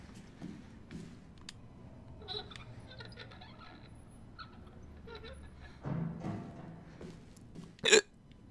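A single sharp hiccup lands near the end, loud and abrupt against a quiet background of soft game sounds, heard during a Resident Evil 7 play session.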